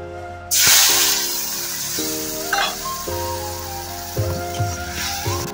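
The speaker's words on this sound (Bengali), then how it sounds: "এবার আমি মশলাটা কড়াইতে দিয়ে কষাবো।" Spice paste dropped into hot oil in a wok for a Bengali boal fish oil jhal, bursting into a loud sizzle that settles to steady frying hiss, with occasional stirring and background tones.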